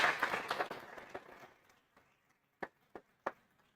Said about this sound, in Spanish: un aplauso para todas esas mamás que tenemos hoy aquí